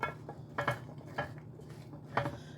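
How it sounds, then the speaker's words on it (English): Seasoned, oiled roasting vegetables from a dinner kit being tossed with a spatula in a pan, giving several sharp clatters and scrapes spaced irregularly, close by and fairly quiet, with no talking. "next I'm going to just toss them around with a spatula to try to get all of the vegetables coated with the seasoning and the oil"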